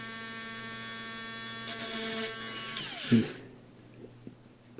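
A small power drill whines steadily at close range while drilling into a plastic figure, then winds down and stops, followed by a few light taps and clicks.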